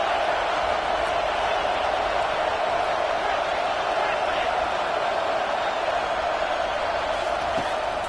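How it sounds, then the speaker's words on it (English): Broadcast crowd noise from a packed football stadium at an Ohio State versus Alabama game, a steady dense roar of cheering and shouting that stays loud and unbroken throughout. "this crowd is fired up. Listen to this noise here."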